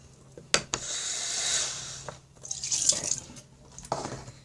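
Liquid Tide detergent poured out in short bursts, with splattering drips and glugs, a few sharp knocks against a container, and a longer trickling stretch near the end.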